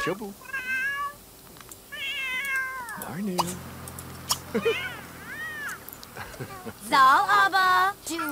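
A cat in The Sims 3 life-simulation game meows and yowls repeatedly in loud, wavering cries, with a low game hum and a clatter partway through.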